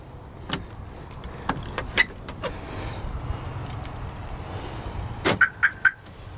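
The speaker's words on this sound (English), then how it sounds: "That locks and unlocks the doors, even though it doesn't have a key deal." Power door locks actuate on a 1947 Dodge, a few sharp mechanical clunks spread across the moment, followed by a quick cluster of three or four short chirps from the alarm system, close and clear over faint background hum.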